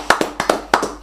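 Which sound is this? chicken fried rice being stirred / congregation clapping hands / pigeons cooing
congregation clapping hands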